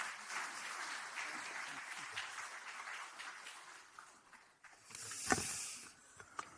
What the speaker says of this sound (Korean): 좀 박수 보내주시기 바라겠습니다.